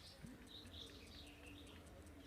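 Small birds perched outdoors in nature chirp faintly and repeatedly in quick, scattered tweets against soft background ambience.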